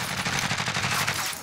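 Rapid automatic gunfire from a Warzone battle royale match (Modern Warfare, Resurgence quads), a dense, continuous stream of shots with a steady rhythm, close and loud throughout with no pauses.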